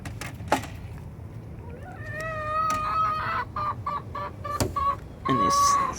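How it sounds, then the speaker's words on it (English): Chickens in a backyard coop in the morning, clucking and calling in repeated tonal bursts, fairly close, with a rooster present and a few sharp knocks around them; no talking. "And they start making chicken noises."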